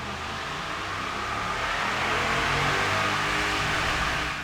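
A 2014 Ram 1500 pickup runs on a dyno in fourth gear, its engine roaring in a loud, sustained rev that builds gradually and holds strong under heavy broadband rushing noise.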